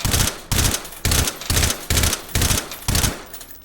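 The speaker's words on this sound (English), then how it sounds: "next time I pull the trigger, fires 1" Seven evenly spaced gunshots from a firearm in the VR shooter H3VR, each a sharp loud crack with a short decaying tail, fired about twice per second, close and alone.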